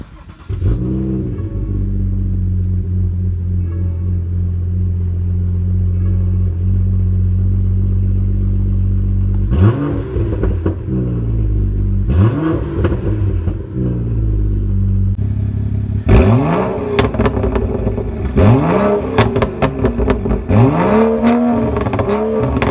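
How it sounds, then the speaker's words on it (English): A BMW F30 335i with a VRSF downpipe, muffler delete and retained resonator idles with a deep, steady burble, then is revved hard several times, each rev rising into a loud, raspy roar before dropping back. "So here is how my 335i sounds"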